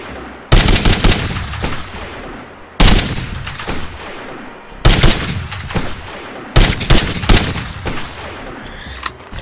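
Four separate bursts of loud, sharp sniper gunfire in a video game ring out at regular intervals, each followed by a decaying echo, with no talking.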